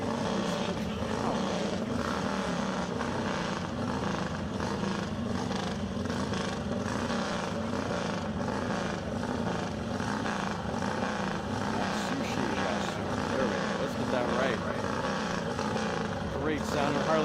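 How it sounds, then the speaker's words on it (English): A 1946 Harley-Davidson two-cylinder vintage special-construction motorcycle running on fuel roars across the El Mirage dry lake, a steady loud engine drone with wind noise that holds through the whole stretch. "Harley Davidson 1946 model. 2-cylinder, special construction, vintage, fuel."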